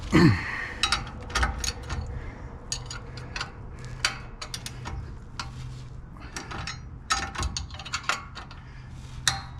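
A socket wrench works on a lift kit bolt, giving bursts of sharp metallic clicks and ratcheting ticks with short pauses between them, close by and without talk.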